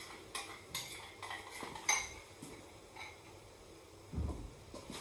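Tarragon sauce is mixed with a utensil, making faint, scattered clinks and scrapes against the dish with a soft low bump near the end, all quiet and close.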